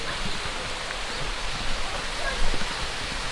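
Mountain stream water rushes steadily near a small waterfall on a hiking trail in the Rokko range around Mount Araji, a close, continuous broadband roar with faint voices now and then.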